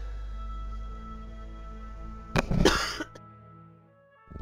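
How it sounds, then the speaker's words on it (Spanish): A single harsh cough bursts out, followed by a brief throaty rasp, loud and close against a quiet background hum. "Ay, qué tos."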